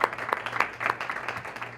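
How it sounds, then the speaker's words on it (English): Audience applause at an evening election-day town hall, a steady wash of many hands clapping, moderately loud and fairly distant, with a low hum underneath through the short stretch. "Can we give Alice a round of applause?"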